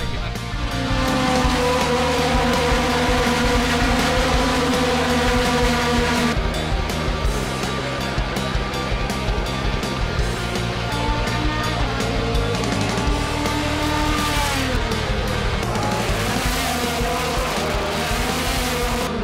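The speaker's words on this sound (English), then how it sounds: "As you can hear the race in the background" Race cars at the 2013 Honda Grand Prix of St. Petersburg, a street race in St. Petersburg, Florida, roar continuously and loudly, with engines revving and passing in overlapping waves and no pause throughout.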